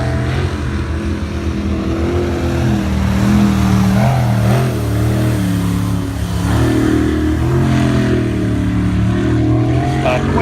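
Outer Limit jet sprint boat's racing engine at a New Zealand jetsprint event in Wanganui, a loud, close, continuous roar whose pitch rises and falls as the throttle is worked.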